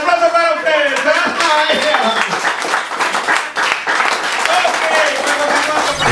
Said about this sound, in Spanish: Y el aplauso para ustedes.